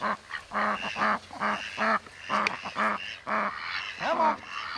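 Ducks on a pig farm quack loudly and close by in a rapid run of repeated honking calls, broken by short gaps.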